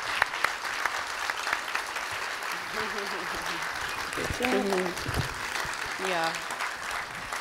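An audience at a design talks event in Reykjavik applauds steadily as the curator comes on stage, with a voice speaking briefly over the sustained clapping.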